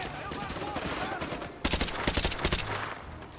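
Automatic gunfire in Call of Duty: Modern Warfare 2 Campaign Remastered on PS4: a busy firefight runs throughout, then a loud, rhythmic burst of close rapid shots hammers out for about a second before easing off, with a voice talking faintly underneath.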